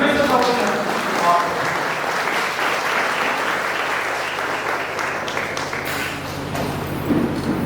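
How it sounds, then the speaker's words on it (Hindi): An audience at a Methodist church youth program claps loudly in welcome, a dense, sustained round of applause lasting the whole stretch, slowly thinning toward the end. "हम सब खड़े हो जाएं और इनके लिए जोरदार ताली के साथ फिर से हम स्वागत करें"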